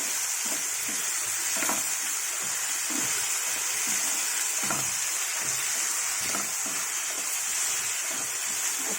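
Soaked, still-wet moong dal frying in hot oil, a continuous bubbling sizzle with soft stirring scrapes and small pops running steadily throughout at moderate level.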